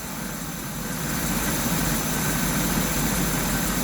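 Big block Chevy engine with a Holley carburetor in a motor home, idling steadily with a continuous low rumble and broadband hum, close and loud with no talk.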